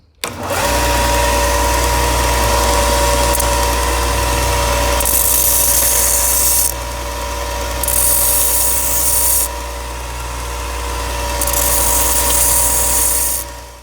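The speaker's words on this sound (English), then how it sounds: "now we just have to start sharpening this" A powered grinder or sander whines loud and steady while sharpening a throwing knife made from an old file, with three bursts of harsher hissing grit as the blade is pressed to the abrasive.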